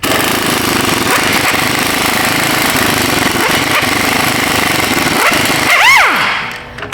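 An Astro 3/8 Ultra impact wrench hammers loudly and continuously in a repair shop, a harsh rattling buzz with a few short dips before it winds down and trails off.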